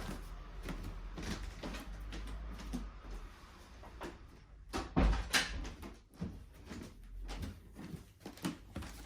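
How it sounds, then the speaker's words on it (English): An indoor door is pushed shut with a single sharp thump about midway, set against low room noise and faint traffic from outside. "Shut the door."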